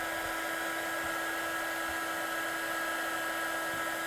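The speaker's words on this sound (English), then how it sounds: "So I'm going to get my gun really hot" A heat gun runs steadily at close range, a constant airy whoosh with a thin sustained whine, heating embossing powder on vellum for a craft stamping project.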